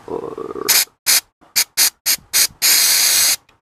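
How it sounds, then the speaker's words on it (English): Carburetor cleaner sprayed onto engine parts in a series of short, loud, close hissing bursts, ending with one longer sustained spray, with no talking. "just with that little spray, you can already see that it's cleaning up quite nice"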